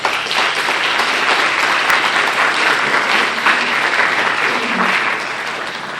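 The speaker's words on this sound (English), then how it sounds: "Let's give them a round of applause." A full round of applause from the crowd at the Hopkins Raspberry Festival senior coronation, dense and sustained for several seconds before easing slightly near the end.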